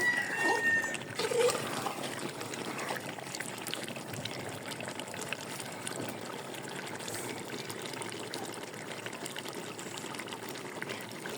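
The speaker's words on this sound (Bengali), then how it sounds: "এখন আমি ঝোলের জন্য পানি দিয়ে দিব" Water pours steadily into a pot of cabbage and chicken curry with a continuous gushing trickle, starting with a brief clatter, moderately quiet throughout.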